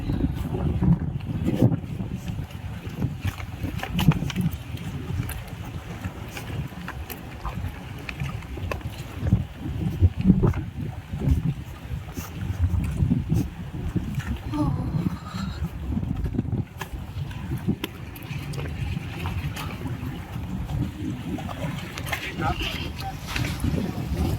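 A boat arrives at the Adaaran Rannalhi island resort in the Maldives, heard as a steady low engine and water rumble mixed with wind buffeting the microphone throughout, with people talking over it.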